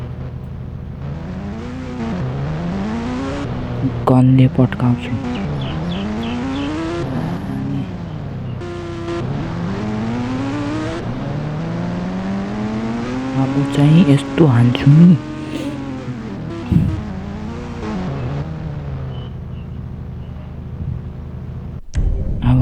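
A car in a video game drives and screeches, its engine rising and falling in revving sweeps with tire squeals. Someone talks loudly over it for most of the time.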